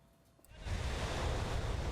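Ocean waves roll in on an East Sea beach where surfers ride, a broad, steady roar of surf and wash that swells up after a quieter start and keeps rushing on, fairly close and full, with wind noise and no voices.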